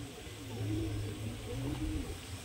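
Madrasi pigeons coo softly in summer heat, a faint, low, repeated cooing in two short bursts over a quiet background hum.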